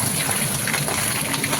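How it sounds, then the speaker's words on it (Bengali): Pabda fish slid one by one into hot oil, giving a loud, steady rush of frying hiss and spattering close up with no pauses. "আমি পাবদা মাছগুলো ছাড়ছি এক এক করে"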